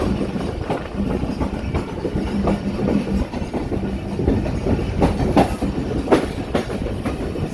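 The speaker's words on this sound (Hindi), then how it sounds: "साहिवाल 1 नंबर रेलवे स्टेशन पर कराची एक्सप्रेस 15 अब रुकेगी।" 15 Up Karachi Express passenger train running along a flood-damaged railway track in Pakistan: a steady, close rumble of carriages with a repeated clickety-clack of wheels over rail joints, continuous with no voices.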